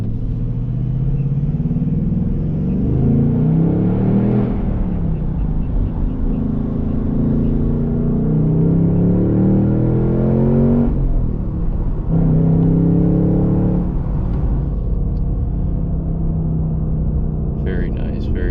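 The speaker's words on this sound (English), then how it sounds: "let's go ahead and listen to this exhaust under the bridge real quick here." A 2026 Ford Mustang GT with a 6-speed manual and an aftermarket exhaust rumbles and revs under a bridge, loud and close, with engine swells rising and falling between shifts and a person talking over it.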